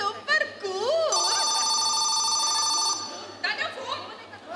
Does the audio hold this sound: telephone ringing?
yes